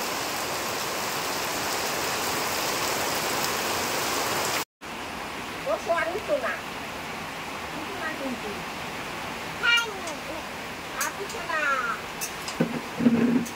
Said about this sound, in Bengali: বৃষ্টি দেখতে চলে এসেছি না।